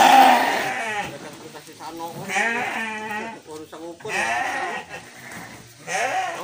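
A young Garut ram under about a year old bleats repeatedly in a pen, giving several strong, wavering calls close to the microphone. Someone talks over and between the calls.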